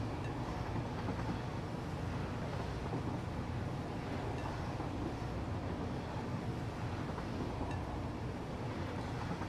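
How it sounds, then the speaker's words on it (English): Steady rumbling train ride in a city-building video game, a continuous broadband rolling noise with wind-like rush and no distinct events, even and loud throughout. "Very nice train ride."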